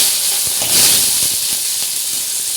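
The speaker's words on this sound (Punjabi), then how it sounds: "ਪਿਆਜ਼ਾਂ ਨੂੰ ਆਪਾਂ ਨਾਰਮਲ ਜਿੱਦਾਂ ਭੁੰਨਦੇ ਆ ਨਾ ਇੱਦਾਂ ਚੰਗੀ ਤਰ੍ਹਾਂ ਤੁਸੀਂ ਭੁੰਨਣਾ ਹੈ" Onions frying in hot oil with cumin seeds in a home kitchen, a loud steady hiss with scattered crackles that swells briefly before settling, no talk.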